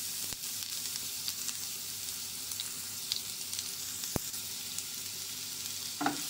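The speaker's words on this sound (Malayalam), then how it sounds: "ഇഞ്ചിയും വെളുത്തുള്ളിയും നല്ല മുഴിഞ്ഞ് വരുന്നവരെ വഴറ്റണം." Chopped garlic and ginger sauté in hot oil for a mushroom masala, a steady close sizzle broken by occasional clicks and scrapes of a spoon stirring in the pan.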